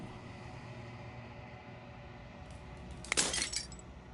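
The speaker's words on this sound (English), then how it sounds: "As a final fragment of glass shatters" Glass shatters in the video game Slay the Princess, a single sharp crash with a bright scatter of fragments that quickly fades, alone over a low ambient drone.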